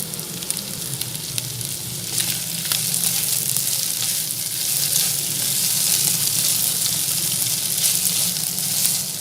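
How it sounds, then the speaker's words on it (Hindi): Mutton kidneys frying in a pan for a keema gurda masala, giving a loud, constant sizzle with a few soft stirring clinks and no talk. "गुर्दे ऐड करके 3 से 4 मिनट तक मज़ीद फ्राई करें।"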